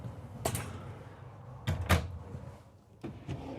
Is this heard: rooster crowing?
no